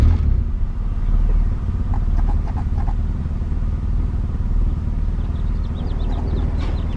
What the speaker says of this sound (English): So I'm gonna go ahead and start the car up and go ahead and push the clutch in.